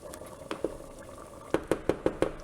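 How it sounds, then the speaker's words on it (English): A small pot of rice boiling on a stove gives off sparse bubbling pops, a couple early and then a quicker run of five or so, close and fairly quiet over a soft steady background. "I've already put on a little pot of rice, and that is boiling"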